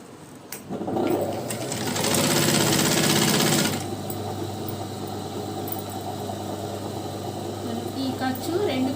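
An electric sewing machine stitches a chudi pant seam, its rapid mechanical whir rising loud for a few seconds and then dropping back to a low steady hum while someone talks.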